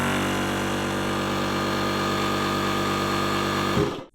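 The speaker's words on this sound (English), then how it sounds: "turn on the pump here" A portable tire inflator pump from a JA300 jump starter and inflator combo runs with a steady, loud mechanical buzz for several seconds, then cuts off abruptly at the end.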